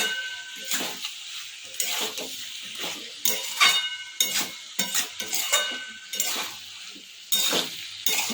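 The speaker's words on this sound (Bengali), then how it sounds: "মাছটা দিয়ে এবারে আমি শুটকি মাছটা দিয়ে একটু ভালো করে নেড়ে চেড়ে নেব" Dried fish being stirred in a frying pan, a spoon scraping and clinking against metal in repeated short strokes over a soft sizzle, close and fairly loud.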